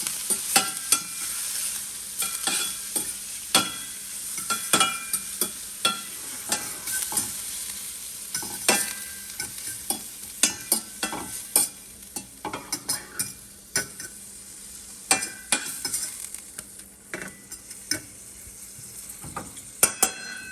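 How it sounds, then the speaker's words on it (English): Garlic and pepper are stirred in a hot frying pan, giving a steady sizzle with repeated sharp scrapes and clicks of the utensil against the pan, close up and without talk. "Put a little garlic on it. A little bit of pepper. And then just stir it up."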